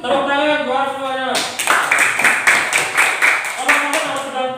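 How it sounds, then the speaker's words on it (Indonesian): Children in a classroom clap their hands together in a steady, rhythmic burst that starts after a brief stretch of a teacher's voice and continues close and lively to the end. "tepuk tangan buat semuanya"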